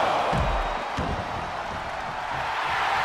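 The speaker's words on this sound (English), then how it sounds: "The sound of this crowd is deafening" A video-game wrestling crowd in WWE 2K22 roars in a constant loud, dense wash of cheering and noise at a televised NXT TakeOver-style arena match, with a few thuds mixed in.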